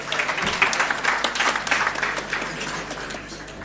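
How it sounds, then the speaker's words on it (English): Sustained audience applause fills the room, a dense patter of many hands with a few sharper individual claps near the start, steady for a few seconds and easing slightly at the end. "Another round of applause"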